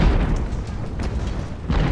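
Artillery cannon fire in Ultimate Admiral: Age of Sail, deep booming blasts rumbling in the distance with a louder one at the end.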